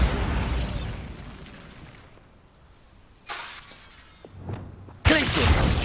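A Bombarda spell going off in Hogwarts Legacy, a sharp crackling burst of shattering debris that fades, then further pops and a second loud blast at the close.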